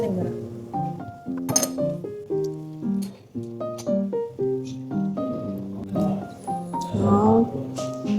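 Glasses clink together in a toast at a meal in Chaozhou, China, with a few brief bright taps buried under lively, close conversation.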